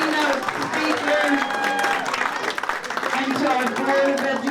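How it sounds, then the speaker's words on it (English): Audience applause at a Dr. Martin Luther King Jr. awards ceremony, sustained clapping across the room with voices mixed in beneath it. "Let's give them another round of applause."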